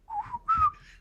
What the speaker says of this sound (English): Some layman like me could whistle it out right here.